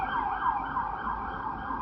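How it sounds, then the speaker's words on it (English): A police or ambulance siren wails loudly and steadily, its pitch sweeping up and down as the emergency vehicle passes nearby, with road noise underneath. "Police siren or a paramedic."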